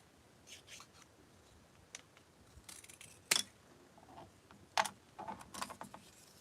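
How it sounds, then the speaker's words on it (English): Scissors snipping tongue-depressor-size popsicle sticks down to short pieces, a few sharp crisp cuts spaced apart with quiet handling rustle between, close and fairly soft. "I cut them down about 2 inches or so, okay? Just using my scissors."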